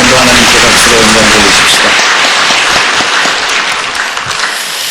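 Loud congregation applause in a church service, a burst of clapping that opens over a voice and a sung or spoken tone, then thins into scattered claps over a few seconds.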